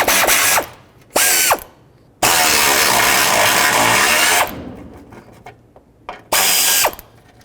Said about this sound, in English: I'm going to start by removing this air intake duct. Do that by removing these two 10mm bolts.